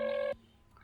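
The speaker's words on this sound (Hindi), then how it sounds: "इसे फोन करता हूँ 1 सेकंड" Telephone keypad tones from a phone call being dialed: a steady, loud dual tone sounds for about a third of a second, then cuts off into near silence.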